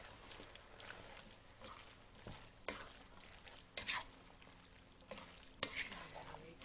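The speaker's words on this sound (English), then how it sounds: "I can add my 2 beans. And we can give that a stir" A spoon stirs chili con carne with canned diced tomatoes and beans in a pot, making soft, uneven scraping and wet sloshing with a few sharper clinks, faint and close.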